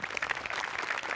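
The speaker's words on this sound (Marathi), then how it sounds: "त्या वाक्यांसाठी विनायकसाठी एकदा टाळ्या वाजल्या पाहिजेत" A studio audience at a Marathi TV comedy show bursts into dense, steady applause after a stage performance, a continuous wash of many hands clapping close by for the whole moment.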